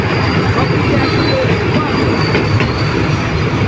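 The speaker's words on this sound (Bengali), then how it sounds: "দেখুন বন্দে ভারত, এটা এনজেপি থেকে হাওড়া যাচ্ছে" The Vande Bharat Express passing at speed on its run from NJP to Howrah, a loud, steady roar of wheels and carriages with faint squeals, and a voice talking over the din.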